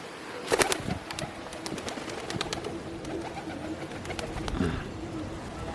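Pigeons cooing nearby in low, soft repeated calls, mixed with a few sharper chirps and a brief burst of wing or rustling sounds early on, over outdoor background noise.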